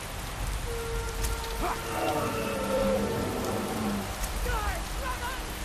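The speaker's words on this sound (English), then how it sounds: "The rain isn't helping." Steady rain falls in the Skyrim video game, a continuous hiss under game voices and music.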